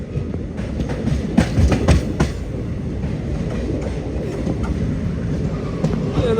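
A passenger train between Dibrugarh and Tinsukia slows on the rails, with a steady low rumble, rolling wheel noise and occasional clanks and squeaks from the carriage close by.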